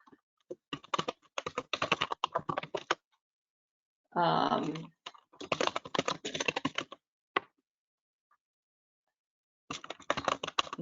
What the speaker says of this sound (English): my keyboard's so loud.